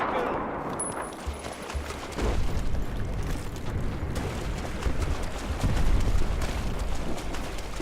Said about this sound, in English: I can hear explosions, but I can't see anything.